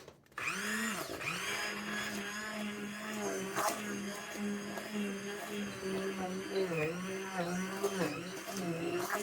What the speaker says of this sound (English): I'm going to use an immersion blender.